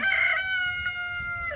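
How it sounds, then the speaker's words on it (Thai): A rooster crows outdoors on a sunny countryside walk, one long drawn-out call that carries clearly and fairly close, with faint background ambience underneath. "มีเสียงไก่ขันด้วย"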